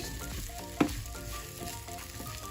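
Sabudana (tapioca pearl) mixture with a spoonful of leaves frying in a pan over low heat, giving a steady close sizzle with a brief louder scrape of stirring partway through.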